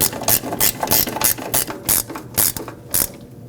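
A hand ratchet tightens the front strut mounting nuts on a 2007-2017 Ford Expedition, close and loud, in quick clicking bursts that stop and restart several times.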